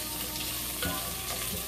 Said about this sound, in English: Let's let the onions get a little translucent.